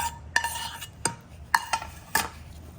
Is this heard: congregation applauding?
no